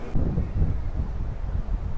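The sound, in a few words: wind on Miami Beach the day before a hurricane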